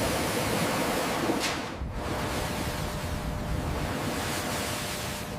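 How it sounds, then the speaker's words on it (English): Water jets spray over a car during leak testing on a factory floor, a steady broad rushing hiss that dips briefly midway and then continues evenly throughout. "Water sprays over the car during leak testing."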